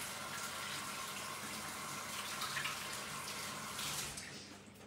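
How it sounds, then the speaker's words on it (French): A kitchen water tap runs steadily while hands are rinsed, a continuous close hiss and splash that holds for several seconds and eases off at the end. "je vais vite me rincer les mains"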